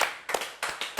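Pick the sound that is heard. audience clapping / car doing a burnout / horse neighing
audience clapping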